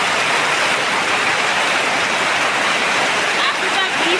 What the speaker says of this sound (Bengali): আকাশ কালো হয়ে বৃষ্টি শুরু হয়ে গেছে দেখুন।